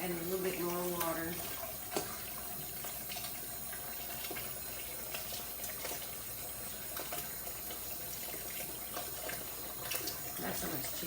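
Water runs steadily from a tap into a pot for canning shredded BBQ chicken, a constant splashing rush at low volume with faint indoor background sounds.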